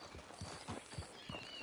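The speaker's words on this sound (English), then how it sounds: "Just get on the horse when you're good and ready" A horse in Red Dead Redemption 2 clip-clops with a few soft, evenly spaced hoofbeats, faint and brief against a low background hum.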